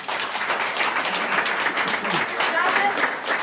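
An audience applauds a choir's performance at a care home's anniversary celebration, a steady wash of clapping at moderate distance that lasts throughout.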